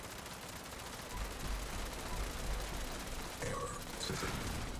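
Rapid sustained gunfire from a Gatling plasma weapon hits the Guardian in Fallout 76, a dense crackling barrage running throughout with a few sharper mechanical blips near the end.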